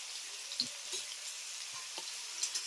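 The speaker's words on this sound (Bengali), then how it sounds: "লবণটাকে সবজির সঙ্গে ভালো করে মিশিয়ে খুব সুন্দর করে একেবারে লাল করে ভেজে নেব" Chunks of sweet potato, pumpkin, carrot and potato frying with salt, a soft steady sizzle with a few quiet clicks and stirring taps, faint and close.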